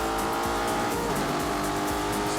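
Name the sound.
car driving in The Grand Tour video game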